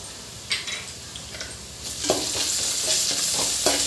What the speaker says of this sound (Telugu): కొంచెం ఫ్రై అయిన తర్వాత సన్నగా కట్ చేసుకున్న ఉల్లిపాయలు, పచ్చిమిర్చి యాడ్ చేసుకోవాలి